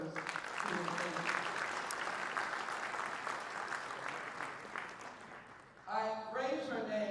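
An audience at a congressional speaking event applauds in a sustained, even clapping wash for several seconds, fading slightly before a voice starts speaking at the end.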